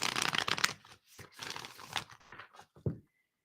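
Playing cards are shuffled close by in several quick riffling bursts, crisp papery rustles separated by short pauses, with no talk.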